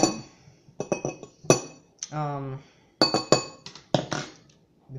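A whisk stirring homemade ravioli filling in a bowl gives a string of sharp clinks against the rim, spaced irregularly and close, with a brief tonal squeak in the middle and voices speaking around it.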